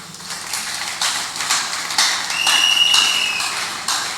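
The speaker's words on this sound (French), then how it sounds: "On peut l'applaudir." Congregation applauding in a church, irregular clapping in pulses with a faint tonal whistle partway through, fairly close and loud, with no speech over it.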